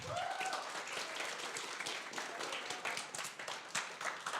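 An audience applauds as a student pitch team is invited on stage at a hackathon final, steady dense clapping filling the room after a brief spoken cue at the start.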